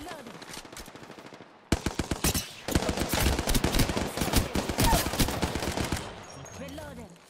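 Rapid automatic gunfire in the video game Apex Legends, loud sustained bursts of machine-gun shots following a single sharp report, ending in quieter ambient game sounds.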